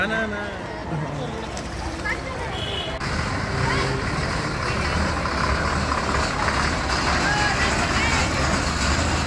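A large vehicle's engine rumbles and grows louder as it draws near for a school children's trip, with people talking over the steady roar.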